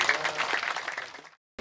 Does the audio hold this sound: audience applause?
yes